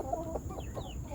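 An adult rooster among a backyard flock of chickens gives short, faint clucking calls over a low farmyard background, with no talking.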